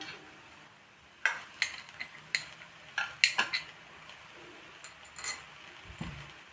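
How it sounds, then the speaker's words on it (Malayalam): A metal spoon stirs vegetable masala rice mixed with fried nuts in a pot, giving a series of sharp scraping clinks at an irregular rhythm, close and moderately loud, with no talking. "ഒന്ന് മിക്സ് ചെയ്യാം"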